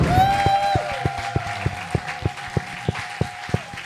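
A church congregation at a Sunday service loudly acclaims and applauds Jesus. Cheering and clapping build into a dense wash, with a sustained tone and evenly spaced percussive beats running underneath.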